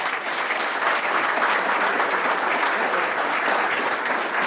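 Audience applause filling a room at the New Canaan Library after a speaker's talk, a steady, dense wash of many hands clapping at full volume throughout.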